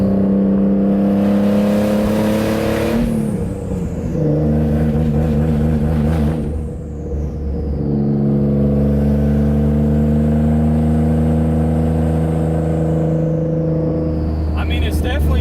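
A Greddy twin-turbo Nissan 350Z engine revs hard, holding a loud, steady drone that twice drops sharply as the fuel cuts out and then climbs again. Voices talk over the engine noise.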